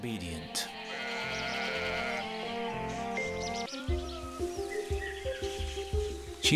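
A sheep bleats in a loud, wavering, drawn-out call, then plucked musical notes take over.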